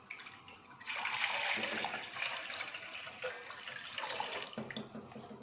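Water pours steadily into a cooking pot for beef nihari, a continuous splashing rush that starts abruptly and runs for several seconds before tapering.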